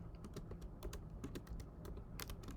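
Rapid typing on a computer keyboard, a close, quick run of clicky keystrokes at moderate volume with no voice.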